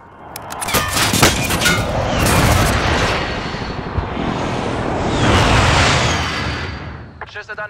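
Air strike in the video game Call of Duty Warzone, with loud rumbling explosions and booming blasts rolling continuously for several seconds, aircraft noise mixed in, then brief sharp crackles at the end.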